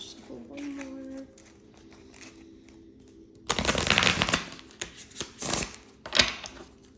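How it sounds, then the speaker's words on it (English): Oracle cards from a Dragon Wisdom deck are shuffled close by, a dense riffling burst that starts midway and trails into scattered soft slaps of cards, after a quiet stretch with faint background talk. "We'll shuffle one more."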